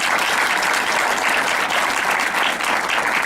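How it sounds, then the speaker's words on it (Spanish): Sustained audience applause at a national education congress in Tamaulipas, a thick, even wash of many hands clapping at steady loudness throughout. "Y un aplauso."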